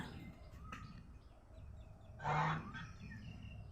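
A goose lets out one loud, nasal honk at close range in a quiet farmyard, with a few faint chirps and murmurs around it.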